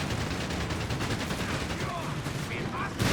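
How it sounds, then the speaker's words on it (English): Steady, crackling machine gun fire and scattered shots fill a Company of Heroes 3 battle, a continuous dense rattle at moderate level, with some faint voices woven in. "And Reakly brings in more machine guns now."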